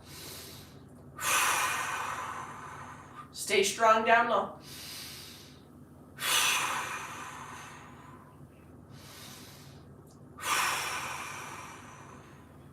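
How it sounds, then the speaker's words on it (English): Three deep, airy breaths, each a soft rushing exhale several seconds apart, taken while lying on the back doing a core mobility exercise with the low back pressed into the floor; a brief spoken instruction falls between them. "And let's get 5 big breaths while holding that little bit of tautness in the lower abdomen."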